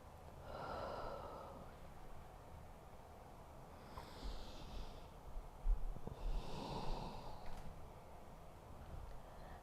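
Slow, deep breaths taken while holding a yoga pose, a few soft inhales and exhales spaced several seconds apart, faint and close, with no talk.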